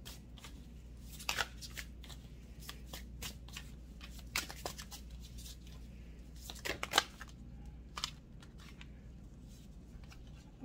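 A deck of cards is shuffled close to the microphone, with quick riffling bursts and soft flicks repeating irregularly over a low steady hum in a quiet room.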